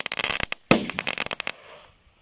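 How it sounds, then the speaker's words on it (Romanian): Firecrackers and fireworks go off in a rapid run of sharp cracks and pops, one loud blast in the middle followed by a crackling burst, fading to quiet at the end; no talking. "O să mai dau câteva petarde"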